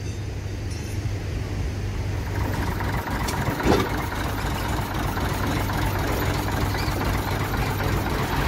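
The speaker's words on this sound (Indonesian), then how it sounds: "sekarang menggunakan kren teman-teman untuk memindah tebu dari lori ke penggilingan" At the Asembagus sugar mill, a crane lifts sugarcane from a lorry to the mill, a steady, heavy engine drone running throughout with one brief clunking burst midway and no talking.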